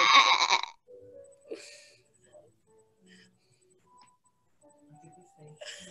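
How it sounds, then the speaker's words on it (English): A loud, harmonic bleat opens the clip, then quiet scattered sounds and faint voices follow, with another brief bleat at the end. "The only ones here are sheep."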